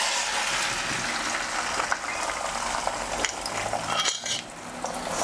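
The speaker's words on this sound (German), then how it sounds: "jetzt hauen wir es in die Pfanne" Food sizzles and is stirred in a hot pan at a mobile outdoor cooking stand, a dense steady frying hiss with scattered scrapes and clinks of a utensil against the pan, with no talk.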